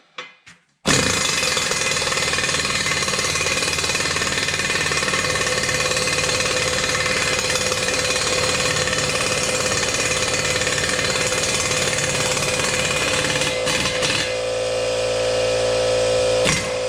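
An impact-type power tool hammers universal joint bolts tight, a loud, continuous rattling burst that starts abruptly after a brief knock, runs for about thirteen seconds, then eases into a lower hum.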